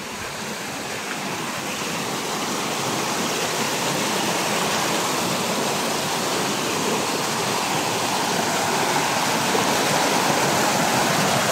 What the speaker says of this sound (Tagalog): Lakas pa rin ang agos dyan, oh.